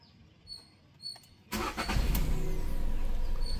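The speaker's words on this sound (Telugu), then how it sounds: "సింగిల్ సెల్ఫ్ ఇంజన్ అనేది స్టార్ట్ అయింది" After a quiet moment with a few faint clicks, a Volkswagen car with 65,000 km on it cranks briefly and catches, then settles into a loud, close, steady idle.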